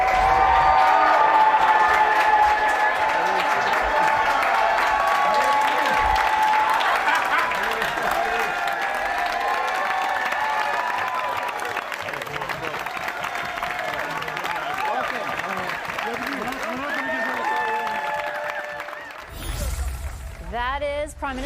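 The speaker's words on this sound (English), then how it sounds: "walking into Liberal caucus this morning to a raucous round of applause" Raucous applause and cheering fill a room as the Liberal caucus welcomes Prime Minister Mark Carney and new MP Chris d'Entremont, a sustained loud clapping crowd that fades slightly, with voices breaking through near the end.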